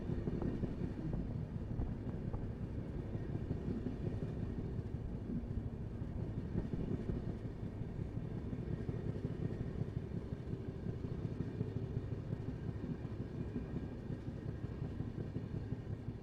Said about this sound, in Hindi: और अभी हमारे सामने से आ रही है WAG-12, देश की सबसे पावरफुल रेल इंजन।